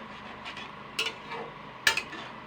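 A spoon stirs a vegetable and lentil mixture with added water in a pot, giving two brief, close scraping clinks over faint background hiss, with no talking.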